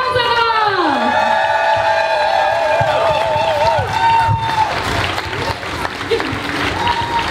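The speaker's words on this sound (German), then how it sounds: "Einen Universum erschütternden Applaus für die einzigartige, wunderschöne, intelligente, eloquente Tessa Gauserer" Crowd at a Pride rally in Hamburg cheers and whoops over applause, with a loud sustained whistle or siren-like tone gliding across the first seconds, and the noise stays steady and dense throughout.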